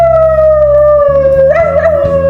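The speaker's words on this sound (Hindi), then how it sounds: "छोटा कुत्ता।" A small dog howls in one long, loud sustained tone that slides slightly and wavers near the end, with a steady low drone underneath.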